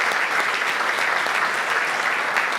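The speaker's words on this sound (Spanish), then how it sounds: "Un aplauso a nuestro siervo." Church congregation giving a round of applause for a pastor, dense sustained clapping from many people in a large room, steady and fairly loud with no voices over it.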